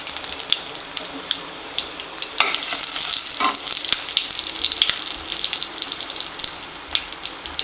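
Cumin seeds frying in hot oil for a Tamil vada curry, a bright crackling sizzle with sharp pops, swelling louder midway as the seeds hit the pan, with some stirring clatter.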